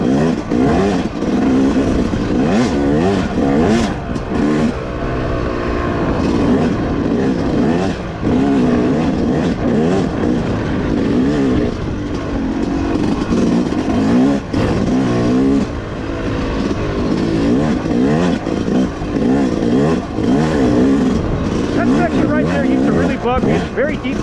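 A 2025 Yamaha YZ250X dirt bike engine revs steadily and loudly through deep sand on a wooded OHV trail, the motor held high and droning without letup.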